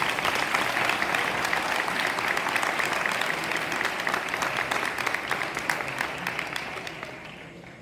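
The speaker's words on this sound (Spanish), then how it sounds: "¡Aplausos!" A ballet school audience applauds steadily for nearly eight seconds, a dense, continuous patter of many hands that stays loud and tapers slightly toward the end.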